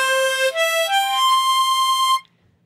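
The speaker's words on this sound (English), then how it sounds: "So this is the sound of the harmonica." Small, light harmonica playing a short rising run of clear reedy notes that settle into one held tone, then stop abruptly into near silence.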